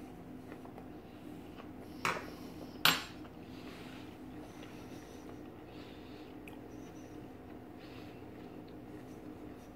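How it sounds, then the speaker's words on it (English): Small piece of cooked liver cut on a plate, marked by two sharp clinks of knife on dish over a low steady hum, otherwise quiet. "I'm going to cut myself a small little piece to taste"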